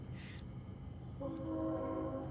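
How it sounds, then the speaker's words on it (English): A train horn sounds from nearby tracks, a sustained multi-tone blast rising in over a steady low rumble, moderately loud and held to the end. "That's a train, bro. That's a loud-ass train, though."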